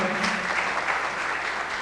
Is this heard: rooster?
no